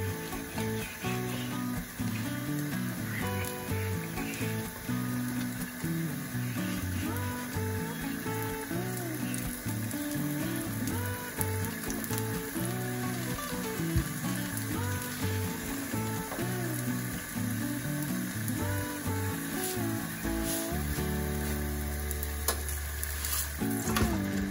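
A layered masala paratha fries in ghee on a hot pan, giving a steady, close sizzling hiss with bubbling crackles and occasional scraping, no one speaking.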